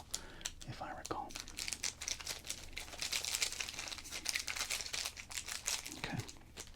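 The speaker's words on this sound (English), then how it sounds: "91 Score, Series 2. Some great crinkling." A 1991 Score Series 2 baseball card pack wrapper crinkles continuously up close in dense, bright crackling bursts, with soft whispered voice underneath.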